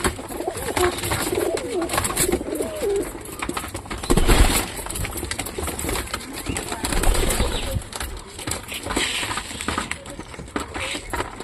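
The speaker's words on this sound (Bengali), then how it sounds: "অল্প ভুট্টা দিছি, তাই সঙ্গে সঙ্গে সব কবুতর নামে খাওয়ার জন্য" Pigeons coo softly while feeding on scattered corn, their calls close and overlapping against a busy background of fluttering, scuffling and other steady noise.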